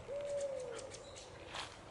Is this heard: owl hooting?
yes